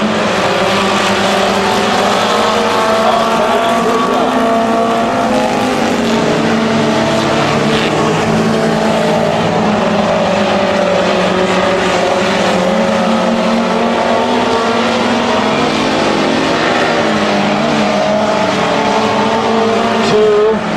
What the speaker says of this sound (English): 1 lap off the pace of 44.